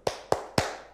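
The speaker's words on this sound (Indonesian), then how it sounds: "Tepuk 3 kali ya anak-anak" Children clap three sharp, evenly spaced times in rhythm during a classroom Quran chant, each clap crisp and close with a short decay and no talking between.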